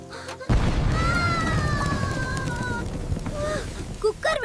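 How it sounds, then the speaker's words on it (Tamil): A pressure cooker bursts while popping corn in a home kitchen: one sudden loud bang, then a sustained noisy rush, with a voice crying out over it and more shouting near the end. "குக்கர் வெடிச்சிருச்சே"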